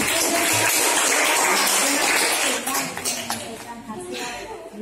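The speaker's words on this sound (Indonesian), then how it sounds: "Tepuk tangan." Students in a junior high school classroom clap after a group presentation, a loud, dense burst that thins out partway through while voices talk over the tail.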